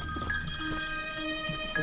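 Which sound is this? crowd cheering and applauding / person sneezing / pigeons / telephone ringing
telephone ringing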